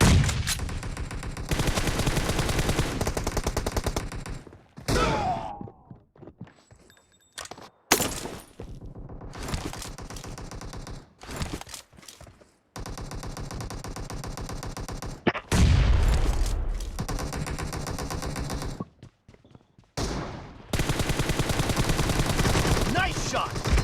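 Video game gunfire comes in dense, loud bursts of rapid shots, broken by short pauses, with brief speech-like sounds mixed in between volleys.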